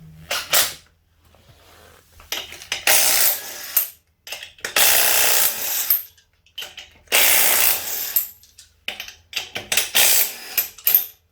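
A jack ratchets a trailer wheel up off the ground in repeated bursts of sharp, close clicking and grinding separated by short pauses.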